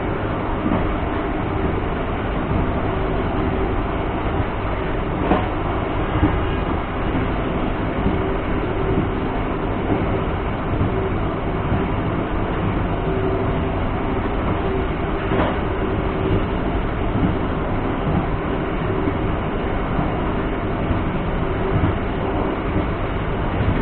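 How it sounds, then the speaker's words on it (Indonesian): Steady loud rumble and rhythmic rail clatter from inside a train in Indonesia as it passes the KA Kertanegara train between Babadan and Caruban stations, continuous throughout with no talk. "Berpapasan dengan KA Kertanegara dari Malang tujuan Purwokerto di petak antara stasiun Babadan dengan stasiun Caruban."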